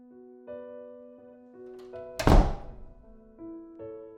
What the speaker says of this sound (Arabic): صوت باب قفل فوق